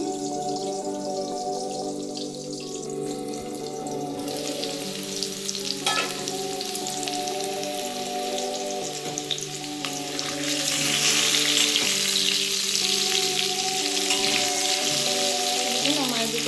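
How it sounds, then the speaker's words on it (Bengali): Potatoes fry in a pan of oil, a steady close sizzle with occasional stirring scrapes, rising louder and brighter toward the end, while a musical background plays along underneath. "আলুটা ভাজা হয়ে গেছে"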